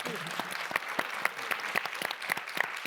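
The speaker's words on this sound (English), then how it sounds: "Let us give all of them a big round of applause." Audience applause at a religious freedom summit, a steady burst of many hands clapping throughout, fairly distant with a few sharper claps standing out.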